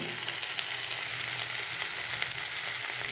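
Green chilies and garlic sizzle in hot oil for a green chili pickle, a steady, even crackling hiss that stays moderately loud and close throughout, with no voices.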